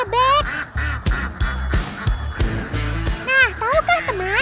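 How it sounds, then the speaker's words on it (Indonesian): A crowd of hungry farm ducks being fed quack loudly and repeatedly at close range, their calls coming in rapid overlapping bursts. "Para bebek."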